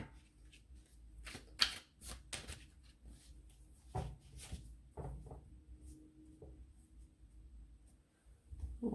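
Tarot cards being shuffled and handled during a reading, giving a run of soft papery riffles and taps in irregular bursts, fairly quiet and close with no talking.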